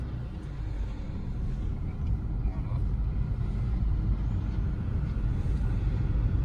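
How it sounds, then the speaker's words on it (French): A Citroën DS3 So Chic pulls away on a road test, its engine a steady low rumble heard from inside the car, slowly building, with someone talking over it. "on passe à l'essai routier"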